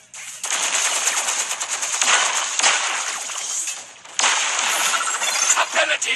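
Rapid machine-gun fire rattles in continuous bursts in the Transformers Earth Wars mobile game, loud and close, with a brief pause near the four-second mark before the shooting resumes.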